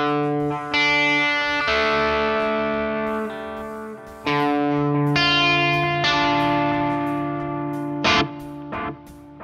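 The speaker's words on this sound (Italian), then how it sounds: "E questo è un delay analogo." Guitar notes played through a Boss Katana amp with its analog delay effect ring out loudly and alone, each note followed by fading repeats. Bright, sustained tones sound in bursts.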